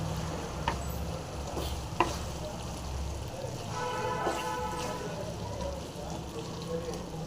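Dried fish being stirred lightly into a simmering brinjal kuzhambu, a soft bubbling sizzle with scraping spoon strokes and a few clinks, while a person talks throughout.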